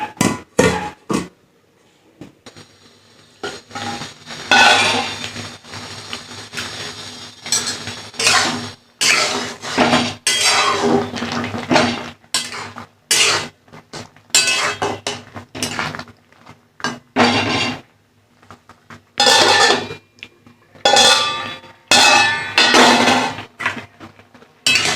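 A pot is covered with its lid amid repeated metal cookware clatter: sharp clanks and scrapes in irregular bursts with short quiet gaps, close and fairly loud.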